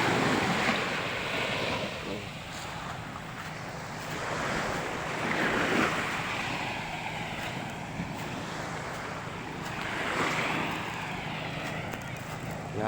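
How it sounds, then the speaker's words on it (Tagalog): Waves wash and break against the shore at Agsalin Fish Sanctuary, Oriental Mindoro, in slow swells, with steady wind noise across the microphone and faint voices now and then. "tapos yung mga kalaskas lang ng alon,"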